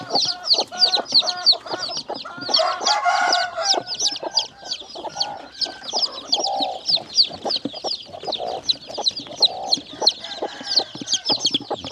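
Chickens and chicks just taken from crates cluck and cheep continuously, with dense overlapping chirps and occasional louder hen clucks, close and busy throughout with no speech.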